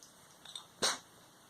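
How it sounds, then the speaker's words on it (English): A cat sneezes once, a sharp, close burst after a few faint small sounds, with no talking. "Kitty sneezes."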